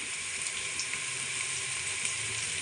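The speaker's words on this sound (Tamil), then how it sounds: "பாருங்க மக்களே, வெங்காயம் நல்லா பொரிஞ்சு நிற்குது." Onions for biryani fry in hot oil with a steady, dense sizzling hiss that stays even and close throughout, with no voices.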